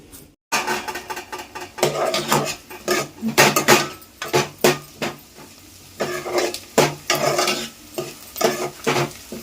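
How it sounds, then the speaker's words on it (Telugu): Onions fry in a pan with whole spices (cloves, cardamom, cinnamon, poppy seeds, cumin and sesame), a close sizzle under repeated scraping and clinking of a metal spoon stirring against the pan, with no talking. "ఉల్లిపాయలు వేగిపోయినాయండి"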